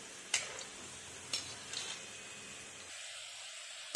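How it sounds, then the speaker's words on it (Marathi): Wheat flour modak deep-fry gently in homemade ghee over low heat, a low steady sizzle with a few sharp clicks of a utensil, fairly quiet, and the frying cuts out near the end. "कमी गॅसवर गोल्डन ब्राऊन होईपर्यंत आपल्याला तळून घ्यायचे।"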